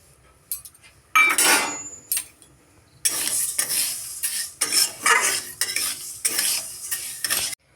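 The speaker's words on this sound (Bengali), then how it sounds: "খিচুড়ির জন্য এবার শুকনো খোলায় মুগের ডালগুলো ভেজে নেব" Moong dal is dry-roasted in a dry pan for khichuri, with repeated scraping and rattling bursts as a spoon stirs the lentils, loud and close with brief pauses between strokes.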